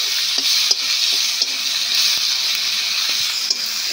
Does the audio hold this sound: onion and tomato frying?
yes